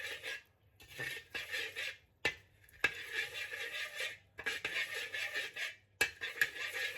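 Yellow rock sugar stirred in hot peanut oil in a wok over low heat: repeated scraping and clinking of a spatula against the metal pan in bursts, with soft sizzling underneath and short pauses between strokes.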